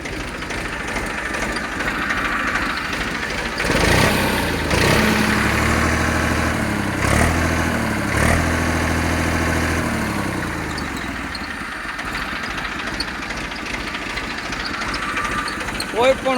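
A New Holland 3230 tractor engine idles with a steady, moderately loud mechanical hum, and a brief tonal rise swells in the middle before settling back.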